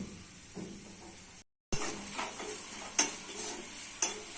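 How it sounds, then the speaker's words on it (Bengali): Chopped onion, dried red chili and garlic sizzle in hot oil in a pan, a steady close frying hiss with a few sharp stirring clicks and one brief dropout. "তেল গরম হয়ে গেছে দিচ্ছি পেঁয়াজ কুচি শুকনো লঙ্কা আর রসুন খেতে করে দিচ্ছি"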